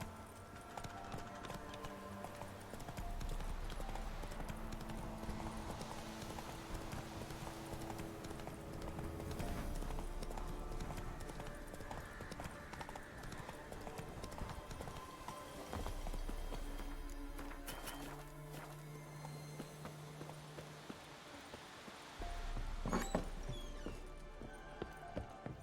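Roach the horse galloping in The Witcher 3: Wild Hunt, a steady rhythmic run of hoofbeats over a background game score, moderately quiet throughout.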